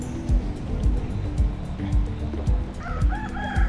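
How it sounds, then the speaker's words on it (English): Roosters crow repeatedly on a city street in Miami, several loud cock-a-doodle-doo calls in quick succession with a cluck or two, set against steady outdoor traffic and surf-like background noise. "So these are illegal apparently in the city of Miami, specifically the roosters."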